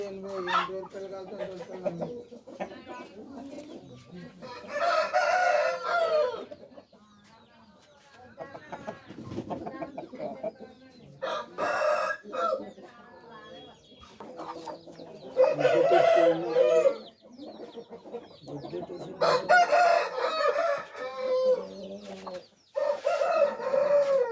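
Roosters crow and chickens cluck at a rooster sale in Kolla market, the birds calling in overlapping bouts at moderate distance while people talk nearby.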